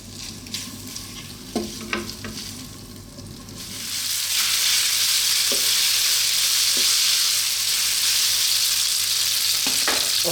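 Spaghetti with garlic and olive oil tossed in a pan over low heat: scraping stirs and scattered clinks at first, then a steady, loud sizzle that fills the rest of the clip.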